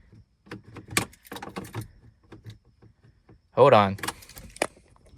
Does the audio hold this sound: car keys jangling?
yes